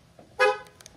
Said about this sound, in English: it's too short of the honks, like the alarm, it honks for too short.